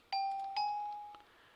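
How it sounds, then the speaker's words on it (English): A gold note block in Minecraft plays two bright bell tones in quick succession, each a clear ding that rings on and fades, alone. "And gold makes a bell sound."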